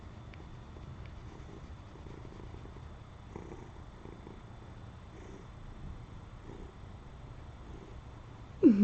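A pet cat purrs steadily up close, a soft, low, continuous rumble with a faint bump at the very end.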